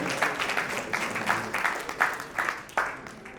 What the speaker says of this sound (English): please put your hands together for yourselves one more time